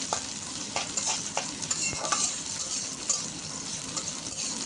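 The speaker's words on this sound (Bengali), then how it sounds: "এবার এটাকে সুন্দর করে নেড়ে চেড়ে নিতে হবে, ভেজে নিতে হবে রেসিপিটি করার জন্য।" Onion sizzles in a pan for a bitter gourd fry, with steady frying hiss and repeated scraping strokes of a spatula stirring it, close and fairly quiet.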